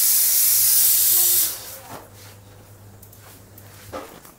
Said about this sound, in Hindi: कुकर तो सीटी दे रहा है।